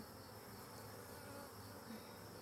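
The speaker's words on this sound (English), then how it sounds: "these bees are trying to connect and stay together" Honeybees hum steadily throughout a hive inspection, a soft continuous drone with no voices over it.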